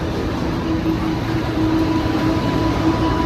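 A Guangzhou metro train pulls into the station, giving a steady, loud rumble with a low mechanical hum and a faint tonal whine held throughout. No voices are heard.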